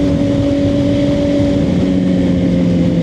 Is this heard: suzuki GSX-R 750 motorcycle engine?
yes